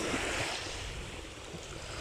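Black Sea surf at Prymorske, Ukraine, before a storm: a continuous wash of waves breaking near the shore, mixed with wind rumble on the microphone, fairly faint and with no voices.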